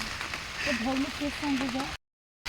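Steady hiss of rain falling on a farm field, with a voice talking over it before the sound cuts out abruptly.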